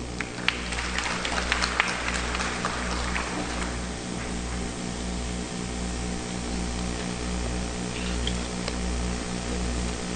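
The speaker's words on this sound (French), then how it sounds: "Sous vos chauds applaudissements" Audience applause at an official opening session of an international forum on state reform, a broad steady wash of clapping lasting throughout over a low constant hum, with a few sharper claps standing out early on.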